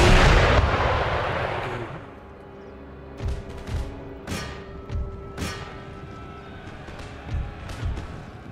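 Artillery guns bombarding a wall breach in the video game Empire Total War: a loud roaring blast at the start, then a series of sharp booming shots at irregular intervals.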